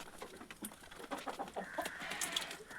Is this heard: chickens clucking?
yes